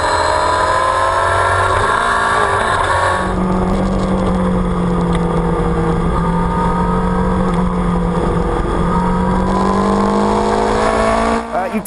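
A Kawasaki Z750R motorcycle engine drones and revs steadily on country roads in Spain, loud and close, with pitch rising and falling through gear changes, under someone talking.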